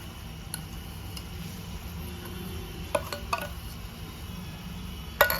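A spoon stirs sheera (rava kesari) premix in a pan over low heat, with soft scraping and a few sharp metallic taps against the pan over a quiet, faint sizzle.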